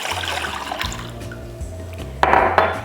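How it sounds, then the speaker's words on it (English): Two cups of water pour into a bowl for a lemon-juice soaking mixture for banana chips, a close splashing trickle that swells into a louder gush near the end. "We're gonna mix 2 cups of water"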